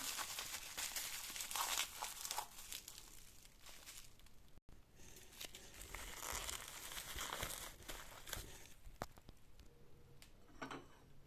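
Plastic bags crinkling as kitchenware is wrapped and packed for a move, close, irregular rustling and crumpling in bursts, with a short gap partway through.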